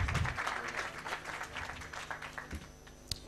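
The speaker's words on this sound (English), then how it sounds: "let's clap for her." Audience applause at a corporate International Youth Day celebration, steady clapping from a room of people at moderate level, with a few sharper isolated claps toward the end.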